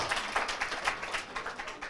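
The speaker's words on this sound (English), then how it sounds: "Can we give her a round of applause?" Audience applause at a business training event, a steady wash of many hands clapping at moderate level for a couple of seconds, no talk over it.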